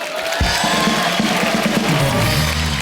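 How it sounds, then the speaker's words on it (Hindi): A studio audience on a TV comedy show breaks into loud, sustained applause and cheering, a steady broadband clatter of clapping that swells and holds for a few seconds. "जोरदार तालियां इनके लिए।"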